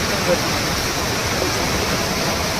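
Rushing flood water of a rising stream where fish are being caught, a loud, steady broadband roar that fills the whole stretch without pause.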